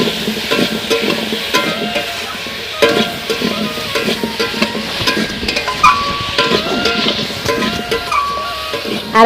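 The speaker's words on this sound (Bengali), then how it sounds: "হলুদ গুঁড়া দিয়ে কিছুক্ষণ নাড়ানাড়ি করছি" Pointed gourd curry with turmeric powder is stirred in a pan, with a steady oily sizzle under repeated scraping and clinking strokes of a spatula against the metal.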